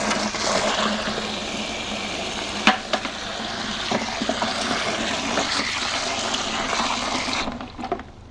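Water running steadily from a hose or tap as a bucket fills for washing a car, a continuous broadband rush that holds for about seven seconds with a few small knocks, then cuts off near the end.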